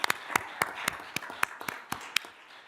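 A handful of people at a county board hearing clap in a sparse, fairly regular beat, each sharp hand clap standing out clearly in a quiet hall.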